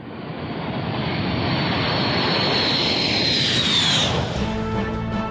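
A MiG-31 jet aircraft roars steadily and loudly throughout, its engine noise swelling into a rising whine that peaks and then falls away as the plane passes.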